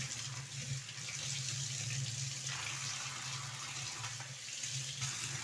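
Tap water runs steadily into a sink while a woolen rangoli is rinsed by hand, a soft continuous splashing flow heard close up with no talk.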